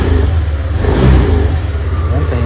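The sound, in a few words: Yamaha Aerox scooter engine revving with Zic oil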